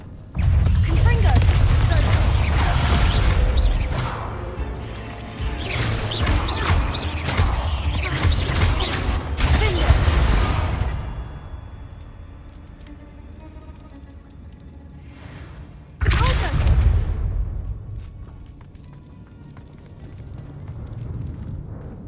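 A Confringo fire spell in Hogwarts Legacy goes off as a series of loud, crackling blasts with rumbling impacts, a burst near the middle and another sharp blast later, with game voices talking over parts of it.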